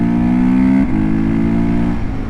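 Gas Gas ES 700 motorcycle being ridden with pannier bags fitted, a steady loud engine drone with a slight shift in pitch partway through, continuous and close without any talk.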